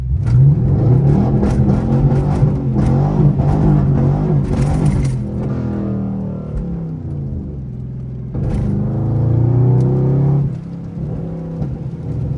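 A Pontiac G8 GT's engine revs hard while driving in the rain, dropping off at a gear shift before the revs build again, a loud, close, rumbling roar throughout.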